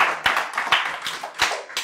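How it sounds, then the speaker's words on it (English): A church congregation gives a short, lively round of applause, dense hand clapping with a few sharper claps standing out, filling the space with no talk over it. "Let's give Brother Mikey a round of applause for what God did in his life."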